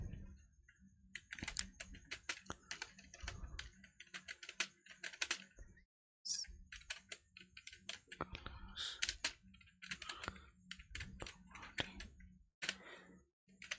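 Typing on a computer keyboard while writing CSS code, a quiet close series of rapid key clicks in uneven bursts with a brief pause midway.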